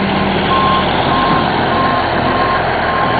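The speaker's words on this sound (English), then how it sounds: "it's a loader over there is making ramps and stacking the pile" Repeated reversing beeps from a loader working a sand and gravel pit on Lopez Island, evenly spaced steady tones over a constant rumble of heavy machinery.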